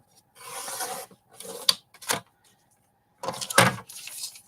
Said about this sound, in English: First, I got to trim the edge off first.